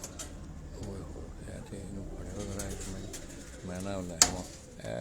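Pigeons cooing in a loft where birds are raised and trained for tournaments, soft repeated coos close by amid other bird calls, with a sharp knock near the end.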